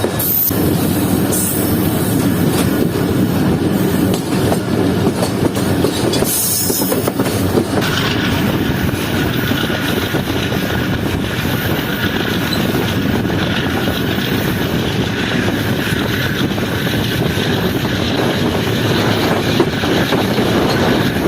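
The Zikriya Express rolls along the main line with a loud, continuous roar of wheels and rattling carriages heard from on board, with rhythmic clatter and occasional brief squeals.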